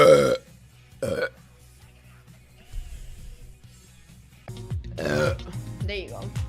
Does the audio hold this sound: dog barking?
no